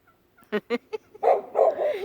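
Three short dog barks, then a rapid warbling gobble from turkeys nearby.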